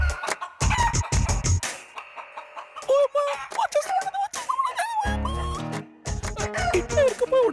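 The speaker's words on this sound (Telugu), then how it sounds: "ఇప్పుడు కోళ్ళు అరుస్తున్నాయేంటి?" Hens clucking and a rooster crowing loudly nearby in a comedy serial scene, a busy run of squawks and calls, mostly alone with a few short gaps of quiet.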